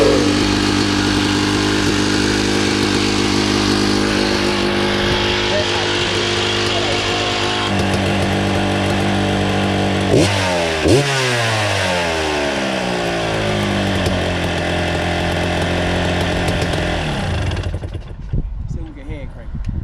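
Dirt bike engine running after repair, with strong harmonic revving that climbs and falls in pitch, then cuts out near the end; people talk over the engine noise.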